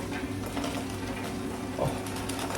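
Buffalo wings crisping in hot oil, a steady dense crackle and sizzle with fine rapid pops, held close and continuous throughout, with no voices.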